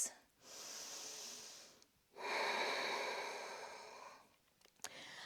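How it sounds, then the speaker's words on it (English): Slow, audible breaths during a yoga pose in a vinyasa flow class, with a long exhale, a pause, then a deeper inhale-exhale cycle, close and soft. "Breathing here. Two more breaths."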